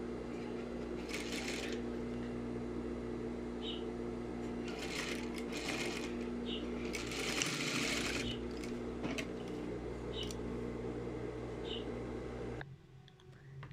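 A sewing machine runs steadily on a tulip skirt lining seam, its fast even whir close and continuous, rising and dipping in speed before stopping near the end.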